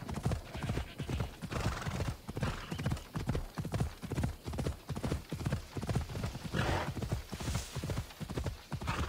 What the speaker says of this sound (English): I hope my horse can handle it.